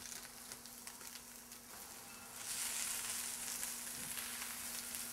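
Kale hitting a hot pan of browned onions and garlic, a steady close sizzle that swells louder partway through and holds, with no voices.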